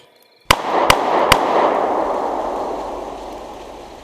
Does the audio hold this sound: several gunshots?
yes